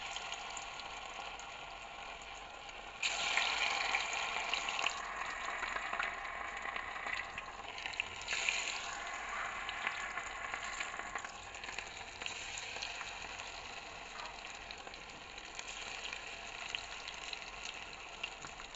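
Pakora batter sizzles steadily in hot oil, a continuous bubbling hiss that swells sharply as more batter goes in, then settles into an even, close crackle with no talking.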